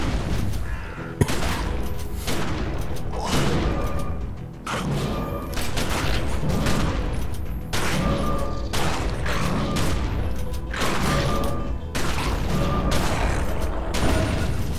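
Rapid bursts of gunfire from The Secret World, the player shooting at a creature, fill the clip loudly and steadily with brief gaps and mechanical clatter.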